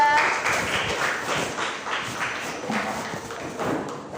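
A classroom group claps and applauds for a presenting student group, a rapid patter of hand claps filling the clip at moderate loudness, with some voices mixed in.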